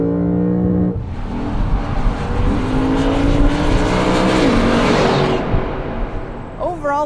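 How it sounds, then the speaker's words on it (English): A 2015 Lexus RC F powers out of a corner, its engine note rising loudly through the revs in a strong surge before fading, with a speaking voice running over it. "you can roll on the accelerator and blast right out"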